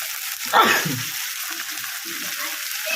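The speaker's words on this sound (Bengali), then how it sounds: "মশলাটা ভাজা ভাজা হয়ে গেছে কাঁচা গরমটাও চলে গেছে এবার আমি দিয়ে দিচ্ছি সামান্য পরিমাণে জল" Water poured into a pan of sizzling fried spice paste for a Bengali hilsa fish curry with potatoes, taro and eggplant gives a sudden loud hiss that settles into a steady, softer simmering sizzle.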